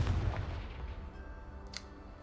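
Confringo blasting spell explosions in the Hogwarts Legacy video game: a heavy boom that dies away into a low rumbling tail, followed by a short, faint crackle.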